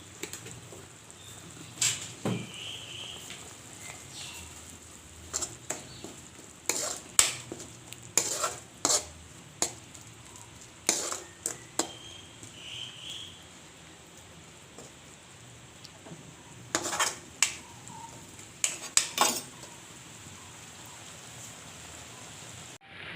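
A chili mixture with sugar is stirred and heated in a pan, giving a faint steady sizzle broken by irregular scraping and clinking strokes of the spoon against the metal, with no talk.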